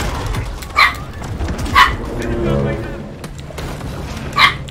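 A dog barks three times, spaced out, over game sound and background speech in the video game Maneater.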